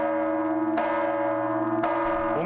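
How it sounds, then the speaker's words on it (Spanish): Loud church bells ringing up close in the bell tower of Saltillo Cathedral, Coahuila, with resonant overlapping tones and two strong strikes layered over a continuous metallic hum. "el sonido se escucha muy fuerte, con todas las campanas que tienen aquí en esta torre."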